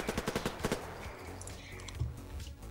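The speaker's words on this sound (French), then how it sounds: "Il y a des balles qui ricochent." Video game gunfire opens with a rapid, loud burst of automatic shots, then gives way to quieter scattered cracks and pings that fit bullets ricocheting.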